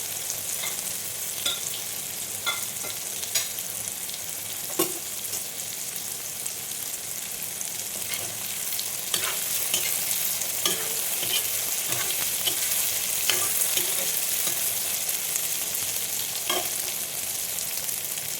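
Soya chunks frying in hot oil in a pan while being stirred, a steady dense sizzle that continues throughout with occasional scraping clicks from the spoon, close up and with no voices.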